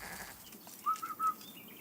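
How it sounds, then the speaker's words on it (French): A sheep on a hillside pasture gives a short, wavering bleat in three quick pulses, heard at moderate distance over soft outdoor background noise. "Ah, monsieur Desbiens, ils sont par là, nos moutons?"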